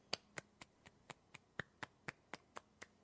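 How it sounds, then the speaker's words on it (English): A dozen sharp, evenly spaced hand claps in a steady rhythm, fairly close and moderately loud, with no talking. "We heard you clap."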